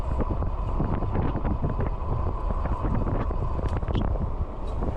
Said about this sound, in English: It's very windy actually